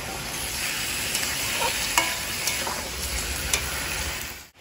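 Chicken coated in ginger, garlic and onion paste with turmeric and chili is stirred in a frying pan: steady sizzling with irregular scraping strokes of the spoon, close and continuous, no voices.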